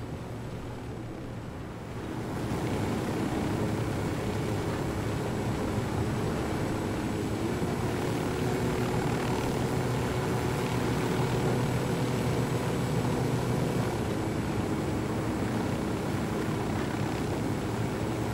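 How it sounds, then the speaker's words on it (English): Helicopter flying in the video game Ghost Recon Wildlands, a steady loud engine and rotor drone that holds throughout after a quieter opening couple of seconds, with no talk over it. "Go faster, you stupid helicopter!"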